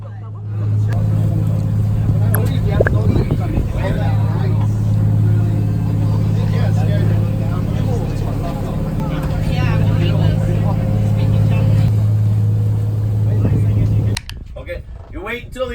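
A fishing boat's engine runs close and loud with a steady low rumble and hum for most of the stretch, then cuts off near the end, leaving quieter ambient sounds; people talk nearby.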